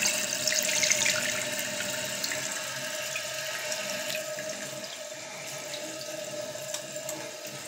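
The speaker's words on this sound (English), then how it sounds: "And I turn the water back on" Water rushes steadily through a toilet's Fluidmaster fill valve as the supply is turned back on, with a constant hiss and a faint high whine, without pause.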